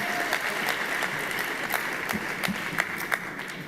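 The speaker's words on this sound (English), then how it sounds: "Let's have a huge clap hands when they come" A hall audience at a party congress claps loudly for arriving speakers, dense continuous applause with a few sharper close claps, alone without talk.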